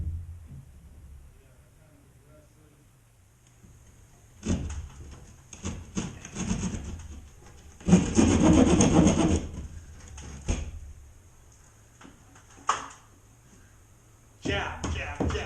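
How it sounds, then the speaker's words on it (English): A keyhole jab saw cuts through a drywall ceiling during leak repair, giving bursts of rasping, scraping strokes with a few sharp knocks, close by and fairly loud, with quiet gaps between. "Keyhole saw, nothing to it."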